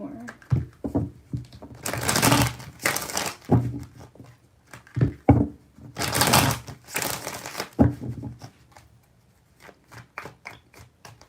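Tarot cards are shuffled in quick crisp riffling bursts, each a few seconds long, with soft taps and handling between them while someone speaks intermittently.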